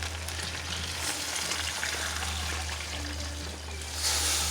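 Steady sizzling and frying as a sauce base mixed with curds is poured over chicken in a hot pan, with a brief splashy surge near the end.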